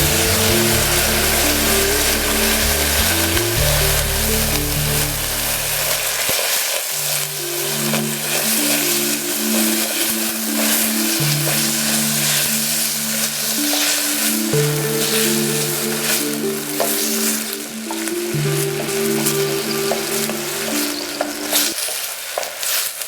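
Vinegar poured into a hot pan of vegan fry-up, a loud steady sizzle and hiss with scraping stirs, under a continuous low humming tone from cooking equipment and no talking.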